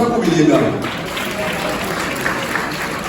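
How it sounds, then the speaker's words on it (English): An audience of officials and guests at a gathering applauds, a full, sustained burst of clapping that starts loudest and settles into an even roar, with some voices beneath it. "Please clap for yourselves"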